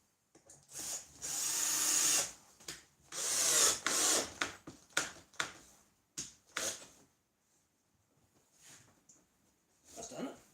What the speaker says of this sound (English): The screws are going in quite deep, you see.